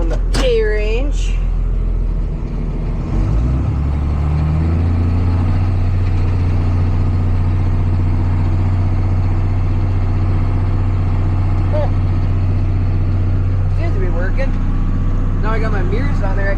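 A John Deere 7810 PowerShift tractor runs steadily in the K range while spreading solid manure, its heavy engine droning loud and close with a deep, constant hum, and a voice talks over it at the start and near the end.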